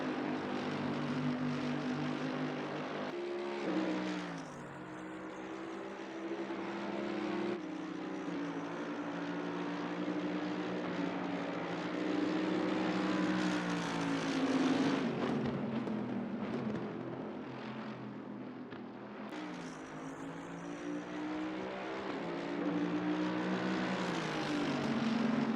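GT race cars, including a Bentley and an AMG, lapping Silverstone in Assetto Corsa Competizione during a six-hour event: sustained, droning engine roar with rising and falling pitch as cars pass, fairly constant in level throughout.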